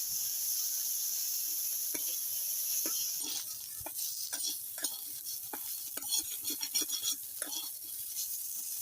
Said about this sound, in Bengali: এবার আমি ভালো করে নেড়ে চেড়ে মাংসটা আমি ভাজি করে নেব।